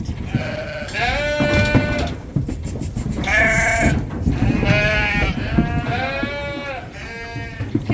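Suffolk and Dorset ewe lambs bleat repeatedly in a farm pen, several overlapping calls from nearby animals, loud and closely spaced over a background of shuffling and movement.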